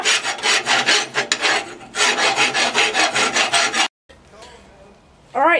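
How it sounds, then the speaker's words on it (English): Coarse rhythmic rasping as a hand rasp is filed over metal on a hot punch workpiece, loud and close in steady back-and-forth strokes, pausing briefly before resuming. "I just filed it down with my rasp here"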